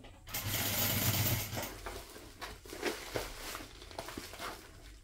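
A sewing machine stitches fabric for a wine bottle holder, giving a brief mechanical whirr followed by soft intermittent clicks and rustles of cloth being turned, fairly quiet and close.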